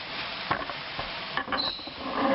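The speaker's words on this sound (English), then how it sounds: "I'm going to put now the white bok choy." White bok choy sizzles in a hot stir-fry pan, a steady crackling fry with brief bursts of scraping and stirring, close and continuous with no talk.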